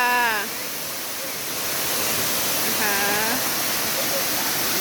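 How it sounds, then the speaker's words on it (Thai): Constant roar of rushing water from a waterfall, a broad steady wash, with someone speaking briefly over it at the start and middle. "นี่ก็จะเป็นน้ำตก"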